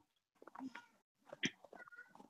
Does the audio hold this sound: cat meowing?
yes